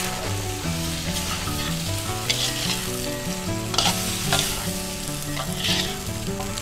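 Macaroni with ham, mushrooms and sauce stir-fried in a pan after tomatoes go in, loud continuous sizzling broken by repeated scraping strokes of a spatula, close up with no talking.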